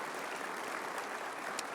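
Sustained audience applause fills a conference plenary hall, a dense, steady wash of many hands clapping at even loudness with no voices over it.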